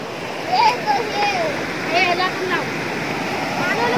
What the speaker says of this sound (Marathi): मस्त असा पाणी येत आहे वरून